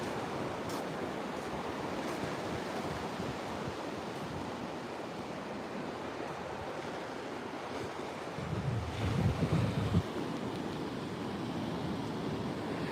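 Ocean surf rolls onto a lonely Oregon beach with pine trees coming right down to the water, a steady broad wash mixed with wind noise, swelling briefly as a nearer wave breaks.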